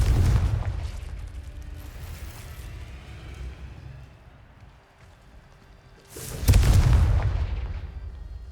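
Confringo fire spell blasting in Hogwarts Legacy inside a cave: a loud, booming burst near the end, after a rumbling, decaying explosion at the start, with no talk.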